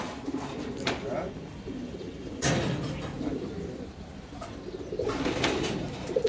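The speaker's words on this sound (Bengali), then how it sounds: "এই এক পেয়ার কবুতর" A pair of black pigeons at a Bangladeshi pigeon farm coo in low, repeated murmurs amid a busy background hum, with a steady high whine and occasional sharper noises.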